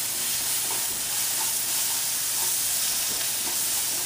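Meat filling with spices and tomato paste frying in a pan, a loud even hiss of sizzling with faint soft stirring scrapes, close and steady with no voices.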